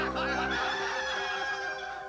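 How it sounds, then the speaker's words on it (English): A rooster crows once, a long, loud, drawn-out call heard clearly and alone. "Before the rooster crows twice, you will deny me 3 times"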